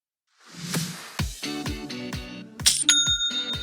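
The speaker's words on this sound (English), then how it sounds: "That's the sound of another sale" A Shopify new-sale notification chime: a bright bell-like chime rings out with a few quick ringing tones after some soft clattering, then the notes decay cleanly.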